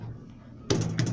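A Mitsubishi elevator door starts opening with a sudden thunk and a mechanical rumble that follows, after a quiet stretch of low background hum.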